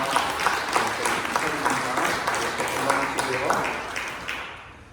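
A church congregation at a Sunday service applauds the fathers with a full, dense round of clapping that holds steady before fading out at the end, a voice faintly audible beneath it.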